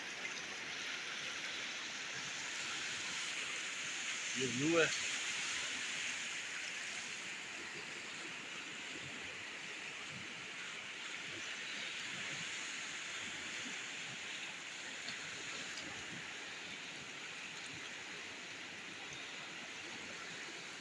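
Rushing flood-season water of the Balakot river roars continuously at close range, a broad steady wash with a brief voice speaking partway through.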